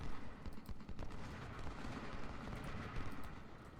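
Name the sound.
canister fire in the video game Ultimate General: Civil War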